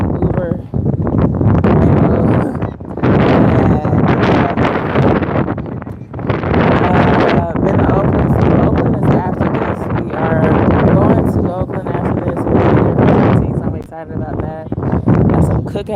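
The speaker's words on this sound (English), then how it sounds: "it's windy as heck" Strong wind buffets the microphone in loud, continuous gusts with brief lulls, and talk can be heard through the roar, on the Sausalito to San Francisco ferry.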